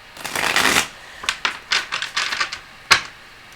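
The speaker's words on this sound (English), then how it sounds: "How many more shuffles, Athena?" Pocket-edition tarot cards being riffled and shuffled up close, a long riffle followed by several shorter bursts and a final sharp snap.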